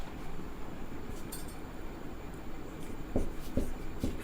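A pen scratches across paper while a maths solution is written out, a soft continuous scratching with a few sharper taps toward the end, over faint background noise.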